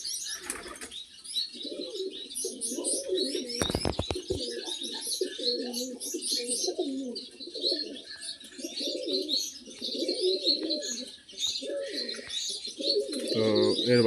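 Domestic pigeons, among them an old dragon-type bird, coo in steady repeated phrases over brighter chirping, with a brief burst of wing flapping partway through. Close and fairly loud throughout.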